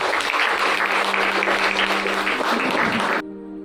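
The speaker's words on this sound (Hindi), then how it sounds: "ये अगर आपको पता चला है तो आप ताली बजा सकते हैं" A church congregation claps during a pastor's sermon, loud, dense applause filling the space before it cuts off abruptly, leaving a low sustained tonal hum.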